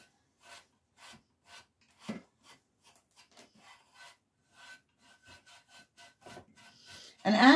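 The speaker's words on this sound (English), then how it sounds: "as you're buffing, you actually start seeing a natural sheen happen" A lamp finish is buffed by hand with short, repeated rubbing strokes, each a soft dry rasp at a steady rhythm, close and fairly quiet with brief gaps between, ending in a louder scrape.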